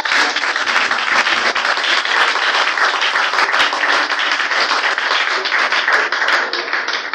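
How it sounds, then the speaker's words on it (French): A church congregation applauding during worship, dense continuous clapping from many hands filling the room at a steady, loud level with no pause. "Acclame Yeshua ce matin"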